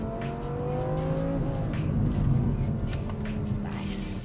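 A twin-turbo Lamborghini engine accelerates hard, its rising revs climbing and dropping through gear changes, loud and close throughout.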